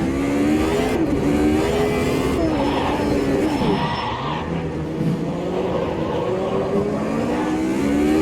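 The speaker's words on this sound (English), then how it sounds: "going sideways while braking down to the third gear through Massenet" Race car engine in the Automobilista 2 video game at Monaco, a loud, continuous drone that dips as the car brakes and downshifts into third gear while sliding sideways, then climbs again in pitch.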